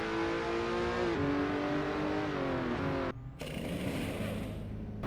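A race car in a racing game exits the pit lane at Watkins Glen, its engine droning loud and steady with shifting pitch and a brief dropout before rising again.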